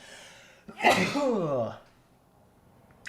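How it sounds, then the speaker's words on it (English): A single loud sneeze bursts out with a sharp intake and a descending, drawn-out exhale, then quiet. "About to sneeze."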